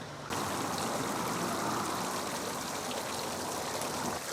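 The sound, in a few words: water flowing in a garden fountain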